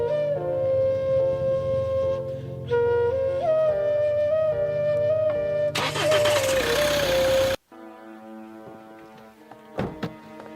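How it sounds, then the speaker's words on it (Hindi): A car's self-starter cranks and the engine fires, giving a whirring, tonal churn that catches and runs, then cuts abruptly, followed by quieter clunks and a sharp thunk near the end. "सेल्फ लगा कर देखना।"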